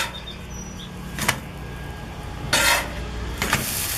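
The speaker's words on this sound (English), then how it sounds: "gotta love that sizzling" Food sizzles in a pan with a steady soft hiss, interrupted by a few brief scraping clatters of utensils against the cookware.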